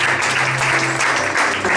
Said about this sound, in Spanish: Denle un fuerte aplauso al Creador del universo